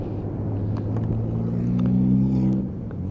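A Lexmoto Echo 50cc motorbike being ridden on the road, its small engine giving a steady buzzing drone that climbs in pitch midway and then eases off, heard close over low wind rumble.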